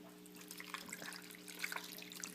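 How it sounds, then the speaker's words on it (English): Water poured from a large bowl into a cooking pot, a steady close-up stream splashing and trickling over about two seconds, with no talking. "my incredibly specific giant bowl of water. So I'm going to take it and I'm going to pour it in here."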